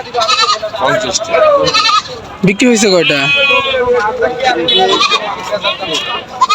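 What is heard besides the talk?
goats bleating at market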